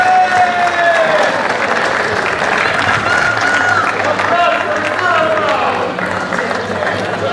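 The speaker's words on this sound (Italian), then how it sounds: "Un applauso ai nostri amici." Sustained applause from a crowd at a motorcycle slalom event, loud and steady, with a faint murmur of voices underneath, easing off slightly toward the end.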